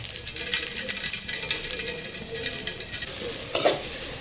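Soybean oil goes into a pot for winter khichuri, making a steady loud sizzle and hiss throughout, with a brief scrape or clatter near the end.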